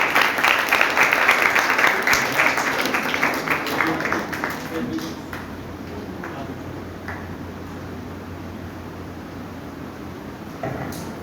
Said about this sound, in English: A lot of applause also welcoming the entire family.